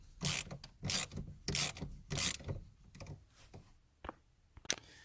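A ratchet on a Dodge Charger steering wheel being tightened back on clicks in four quick, close bursts, followed by a few softer scrapes and taps.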